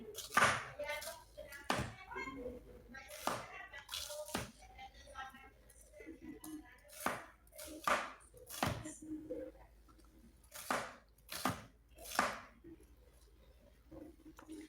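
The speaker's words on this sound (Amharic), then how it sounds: "እንደዚህ አድርገን እንከትፈዋለን። እኛ 3 ሽንኩርት ነው የተጠቀምነው።" Three onions are chopped on a board with a knife, producing a steady series of close, sharp taps at roughly one-second intervals with faint background noise between strikes.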